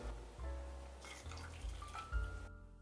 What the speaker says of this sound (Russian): И добавляю в кастрюлю 2 стакана горячей воды.